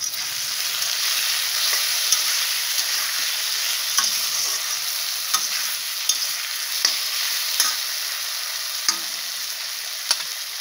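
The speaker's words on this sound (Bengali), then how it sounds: "এখন আলুগুলো দিয়ে একটু ভাজা ভাজা করে নিব" Potatoes sizzle steadily in a wok with cumin and bay leaf, a continuous close frying hiss broken by sharp scrapes and clinks as a spatula stirs them every second or so, with no talk.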